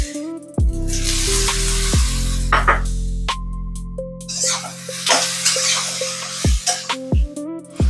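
Eggplant pieces dropped into hot oil hiss and sizzle in broad bursts, with clinks and scraping of a utensil against the pan and a steady kitchen hum underneath.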